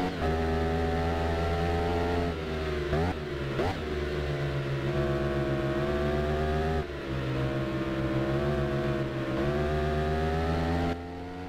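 A Ducati Streetfighter 848 motorcycle engine in the game RIDE on a Wales track, a loud steady high-revving drone held throughout, dipping briefly for gear changes before climbing again.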